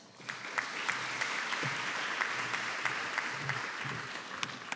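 A graduation ceremony audience gives sustained applause for Bachelor of Arts in Education, Business Studies and Accounting graduates, a loud and even roar of many hands with sharp individual claps standing out.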